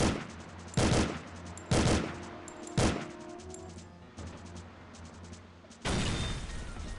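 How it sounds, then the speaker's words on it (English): Explosive launcher fire in the N64 game 007: The World Is Not Enough, heavy booming shots at irregular intervals, five or six loud blasts each followed by a rumbling decay, with no talking. "I'm shooting grenades. Or rockets."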